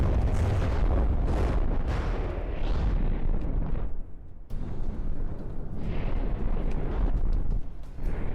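Rounds spilling from a damaged gun's shell ejector in the From the Depths naval combat game, a dense continuous roar of rapid booms and bursts with a brief dip midway before the heavy firing resumes.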